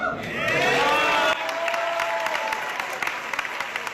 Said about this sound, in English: everybody in the crowd is more retarded for clapping and cheering because he brought up picking cotton